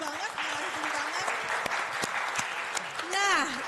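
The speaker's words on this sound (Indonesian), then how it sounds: "Kita kasih tepuk tangan dong" Applause from students at a 2024 Indonesian public lecture, a few seconds of clapping under and around voices speaking throughout, with a brief louder swell near the end.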